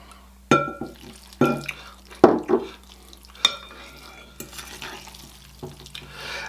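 Spicy peanut noodles with chili crisp being stirred in a pan: a series of separate wet, sticky scrapes and clinks of utensil against cookware, moderately loud and close, with quiet gaps between strokes.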